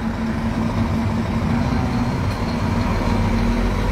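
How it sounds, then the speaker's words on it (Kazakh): Dense roar of cars and trucks on a six-lane road, a continuous heavy engine drone with a steady low hum, close and unbroken, no talk. "ар бир катарда бир 100-150 машина жүрөт"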